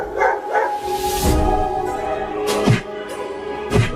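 Cartoon dogs bark repeatedly outside a wooden house, sharp yaps rising over a busy, continuous backdrop of music and noise.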